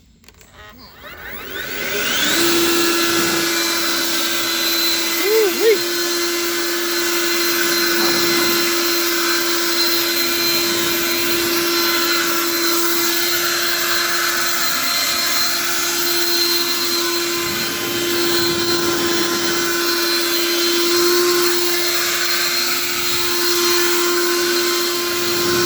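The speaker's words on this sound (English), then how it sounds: "let's get this leaf blower and see how much dust we can actually stir up" A leaf blower stirring up dust around the bed of a 1978 GMC truck spins up within a couple of seconds into a steady, loud whining drone that holds evenly to the end.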